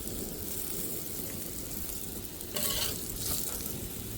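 Radishes and peas fry in a pan with a steady, dense sizzle that holds throughout and swells briefly louder near the end, with no voices.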